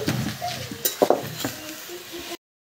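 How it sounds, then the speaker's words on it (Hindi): Chicken frying in a pot on a traditional clay stove, brief sizzling with stirring scrapes and a few utensil clinks, close and moderately loud, ending abruptly in silence. "अभी चिकन फ्राई हो रहा है देख सकते हैं आप लोग एकदम देसी चूल्हा में विदेशी चिकन बन रहा है"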